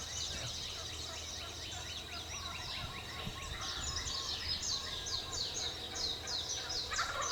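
Wild turkeys gobble at dawn in the woods during a spring hunt, a group of rattling calls overlapping from some distance, steady over faint background ambience.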